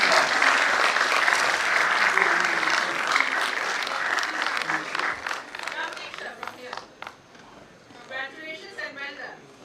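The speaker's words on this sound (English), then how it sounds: "A big round of applause." Loud, sustained applause from an audience at an award ceremony, dense clapping that thins and tapers off toward the end, with a voice speaking over it.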